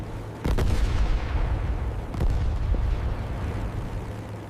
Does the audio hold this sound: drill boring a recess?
no